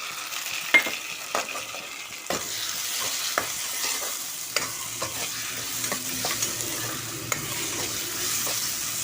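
Gentle, continuous sizzle of onion and tomato frying in a pan, with frequent light taps and scrapes of a spatula stirring, close and steady throughout.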